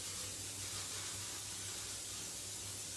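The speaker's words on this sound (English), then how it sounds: "I'm going to spray it with some little cooking spray." Non-stick cooking spray hissing from an aerosol can over a pan at a kitchen sink, one continuous soft hiss lasting about three seconds with a faint low hum underneath.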